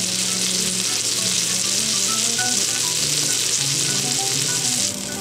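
A salted parrotfish grilling in butter on a desert island gives a loud, steady, close-up sizzle and crackle that runs unbroken through the clip, with no voices.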